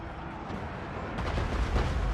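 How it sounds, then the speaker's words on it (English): Artillery bombardment in Total War: Warhammer II, a fantasy strategy video game, as a low rumbling battle din with a string of heavy booming impacts that grow louder toward the end. "artillery's tearing things up as well"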